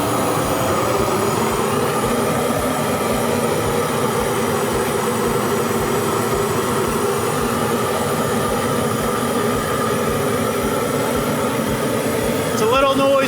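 A Grill Blazer torch roars steadily while melting cheese on a margherita pizza on a griddle. The loud, unbroken hiss and rumble runs throughout, with people talking faintly beneath it.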